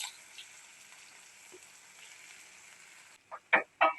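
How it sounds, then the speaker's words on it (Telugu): Small red onions fry with cumin seeds in a pan for a street-style egg masala. A soft, steady sizzle lasts about three seconds, then a few sharp, loud knocks and scrapes follow near the end. "బాగా వేగనివ్వాలి."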